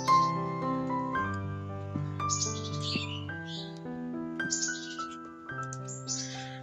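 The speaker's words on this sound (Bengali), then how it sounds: "খুব সুন্দর পাখি কিচিমিচি ডাকছে।" Birds chirping and tweeting on a foggy winter morning in the countryside, with fog water dripping onto trees; steady, layered bird song with repeated bright calls, close and clear, with no talking.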